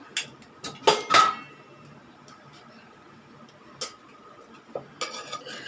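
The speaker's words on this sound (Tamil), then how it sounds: "நம்ம குக்கரை ஓப்பன் பண்ணி பார்த்துக்கலாம்" Metal pots and a pressure cooker being handled in a home kitchen, with scattered clinks, taps and scrapes, two louder clanks early and a burst of clatter near the end, moderately close.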